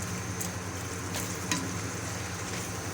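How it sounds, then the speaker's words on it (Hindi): Ginger and tomato fry quietly in a pan for a white chickpea curry, a soft continuous sizzle with a few light stirring scrapes. "इसको अच्छी तरह से फ्राई करेंगे।"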